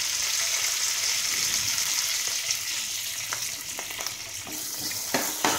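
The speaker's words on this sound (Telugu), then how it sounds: "ఆవాలు, జీలకర్ర, మెంతులు, సాయమినపప్పు ఇవి వేగుతుండగా ఇందులో పచ్చిమిరపకాయలు," Mustard seeds, cumin, fenugreek, urad dal and curry leaves frying in hot oil for a taro curry, a steady close sizzle with scattered light pops and crackles, no voices.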